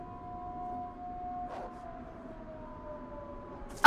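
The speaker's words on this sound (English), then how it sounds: "You hear the siren? No. That's going off everywhere on the map." A siren wails across the map in the survival game DayZ, on a winter Deer Isle hardcore server: two steady tones that slowly fall in pitch, faint and distant, with a brief noise burst midway.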